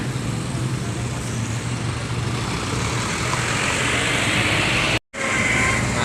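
Congested traffic crawls along a road under repair where concrete is being poured, a steady loud rumble of engines and road noise filling the scene, with a brief dropout near the end.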